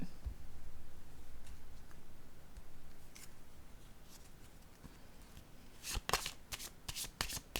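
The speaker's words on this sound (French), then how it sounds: "Je vais déposer une carte ici." Playing cards being set down and handled at close range, a few quiet taps early, then a flurry of crisp card slaps and shuffling clatter toward the end.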